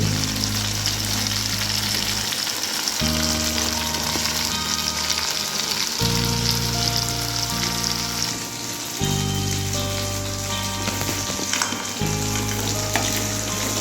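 Prawns deep frying in oil, giving a dense, steady crackling sizzle like rain on a surface that runs evenly throughout, close and loud, while a low background hum cuts in and out, with no speech.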